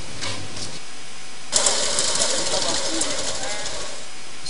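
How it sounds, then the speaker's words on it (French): A small Togolese-made mini-tractor engine starts with a burst of hissing, rattling mechanical noise and keeps running roughly and continuously, fairly close, with someone speaking over it. "Ce mini-tracteur défriche. Il laboure et est capable de bien de choses."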